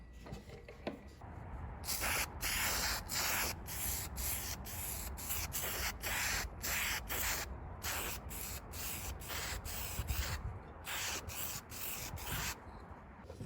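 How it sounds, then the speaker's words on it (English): Lacquered wood is hand-sanded between coats on a dart holder, heard as close, repeated rubbing strokes in a steady rhythm with brief pauses, no talking. "threw a couple coats of lacquer on there, sanded in between"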